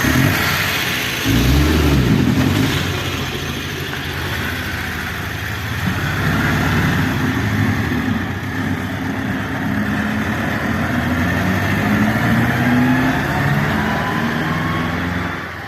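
A car engine runs nearby, rising with a rev in the first seconds and then settling into a steady idle hum that continues at a constant level to the end, with no talking.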